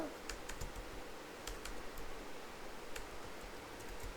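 Quiet, irregular keystrokes on a computer keyboard while typing a document in MS Word, a soft run of close clicks with occasional pauses and no speech.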